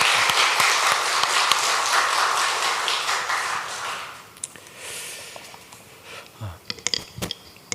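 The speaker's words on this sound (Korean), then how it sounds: "우리의 찬양을 기쁘게 받으신 우리 하나님께 영광의 박수를 올려드리겠습니다" A church congregation at Sunday worship gives applause after a choir's hymn, heavy clapping that gradually dies away, leaving scattered individual claps and taps near the end.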